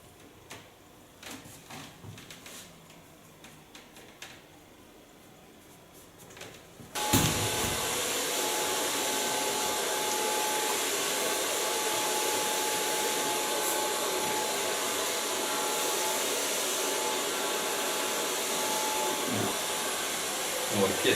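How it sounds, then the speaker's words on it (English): A handheld hair dryer switches on abruptly and blows loudly and steadily at close range for long layered hair with a fringe, after a quieter stretch of brushing and handling noises. "Start drying in the neckline, building up."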